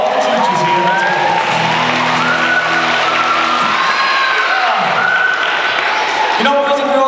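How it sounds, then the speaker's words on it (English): Applause and cheering for the teachers from a crowd of children and adults at a First Communion party, a dense, steady clatter of clapping mixed with whoops and voices, with someone talking over it. "Can we have a round of applause for all the teachers here?"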